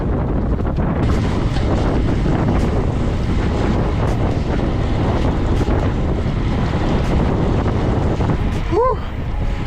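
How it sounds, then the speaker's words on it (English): Loud, constant wind buffeting a microphone during an outdoor bike ride on a windy day while training for the Celtman triathlon, roaring steadily for the whole stretch with a brief higher whoop near the end. "Yeah, it's just too windy."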